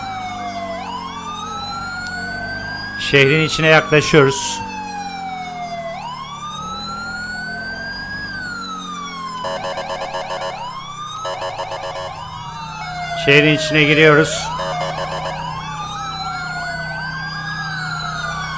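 Wailing sirens from a fire engine and ambulance in the GTA 5 video game, rising and falling sweeps overlapping for the full stretch, joined by bursts of rapid yelping tones, with a brief spoken voice over them.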